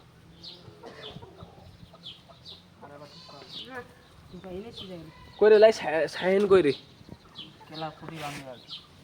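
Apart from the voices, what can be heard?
chickens and roosters clucking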